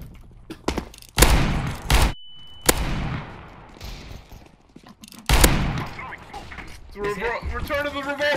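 R8 revolver gunfire in the video game CS:GO, a few loud, sharp, widely spaced shots with echoing tails, mixed with excited talk from players.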